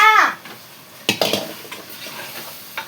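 Meat added to a cooking pot of spiced masala and stirred, producing a metallic clatter of a spoon against the pot followed by light scraping and sizzling, close and brief, with no speech.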